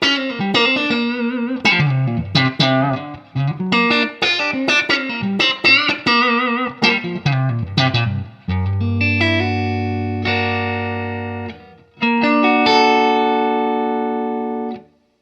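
Electric guitar on the neck pickup played straight through a 1968 Fender Super Reverb amp with the bright cap engaged and no delay: a run of bright picked chords and single notes, then long sustained ringing chords, alone and clean.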